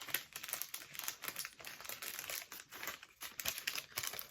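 A sheet of paper slides back into an envelope with a soft, close crinkling and rustling that runs steadily for a few seconds, with no talking.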